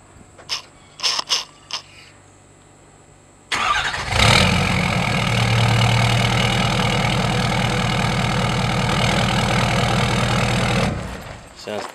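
A few sharp clicks, then a 2015 Ford F-250 King Ranch pickup engine with a 5-inch downpipe-back exhaust cranks and fires up, settling into a loud, steady idle with a deep exhaust rumble before shutting off.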